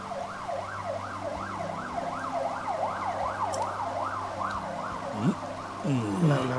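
An ambulance siren wails in a steady rising-and-falling cycle, moderately loud, over a low engine rumble, with a brief swooping tone near the end as it passes.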